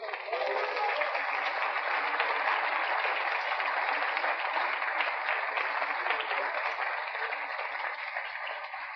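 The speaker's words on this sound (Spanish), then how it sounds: "Démosle un aplauso" Church congregation applauds after a sermon, a steady, even patter of many hands sounding narrow and muffled, sustained without pause from start to finish.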